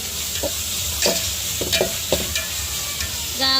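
A spoon stirs mint and coriander into curry frying in a pan, with soft scraping strokes at irregular intervals over a low steady sizzle, close by and with no talking.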